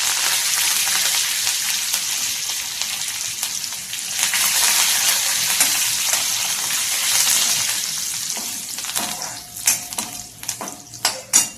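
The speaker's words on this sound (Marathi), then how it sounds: "लसूण लालसर झाली की आपण इथे कढीपत्ता टाकणार आहे." Curry leaves hitting garlic frying in hot oil with a pinch of asafoetida for a mango raita, a loud continuous sizzle that flares up, followed by scraping and clinks of a spoon against the pan.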